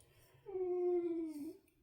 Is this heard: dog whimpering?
yes